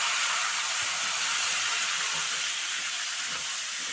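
Potatoes and chickpeas fry in a hot pan for a vegetarian paneer dish, giving a soft, steady sizzle and hiss throughout with no speech.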